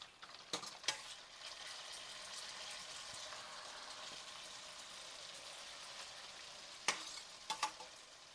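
Pasta ingredients hitting hot oil in a pan, a continuous bright sizzle with a few sharp utensil clacks at the start and end, close and fairly quiet.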